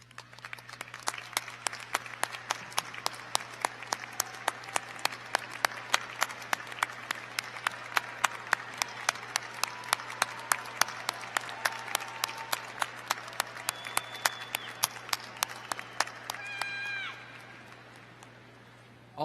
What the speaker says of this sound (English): Will the family and friends of graduates please stand and receive our grateful applause?